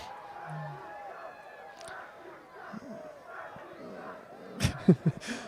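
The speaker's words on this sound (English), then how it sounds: "The opposing crowd is not fond of that" Crowd at a high school 5A quarterfinal football game reacting to a pass interference call, with a distant, diffuse murmur that swells into louder shouts and jeers near the end.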